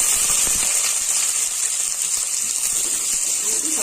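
Peanuts, onions, chillies and curry leaves frying in a pan give a loud, steady hissing sizzle that runs unbroken throughout, with faint crackles and a few soft knocks underneath.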